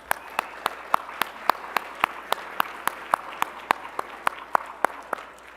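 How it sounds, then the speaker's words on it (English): A round of applause from the audience at the 2021 Upper Midwest Emmy Awards ceremony, heard as a steady series of sharp, evenly spaced claps over a low hum of room noise. "So let's give Ben a round of applause."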